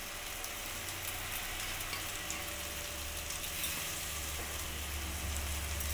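Lote fish (Bombay duck) jhuro with chopped coriander stirred in a pan, giving a steady, even frying sizzle that runs unbroken throughout with no voices.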